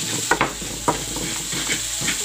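Vegetables with beans stir-fry in a wok with a continuous close sizzle, punctuated by a few quick scraping strokes of a spatula and no voices.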